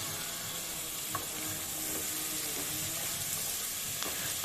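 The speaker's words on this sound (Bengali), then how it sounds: "চালটা দিয়ে আমি এখানে ভেজে নেব।" Rice fries in a pan for basanti pulao, giving a steady, soft sizzle with occasional stirring scrapes throughout, no voices.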